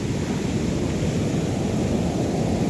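Big ocean waves wash onto a beach in a steady, continuous roar of surf, close and fairly loud, with no talking.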